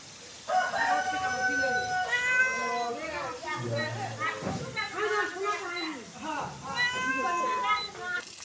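A pregnant cat meows over and over, its drawn-out cries close and fairly loud across about eight seconds, with other sounds of voices or fowl faintly mixed in around it.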